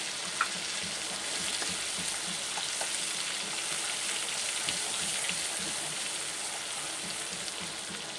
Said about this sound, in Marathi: बटरमध्ये मस्त मसाला परतून घ्यायचा आपल्याला